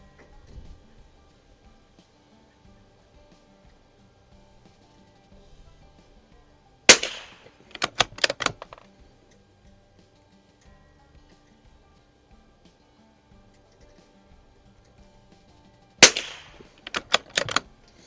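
An Anschutz Biathlon 1827 .22 rifle firing Wolf ammunition at a range: two groups of sharp reports, one shot followed by a quick cluster of three to four, then a long quiet gap and another similar group, loud against near silence.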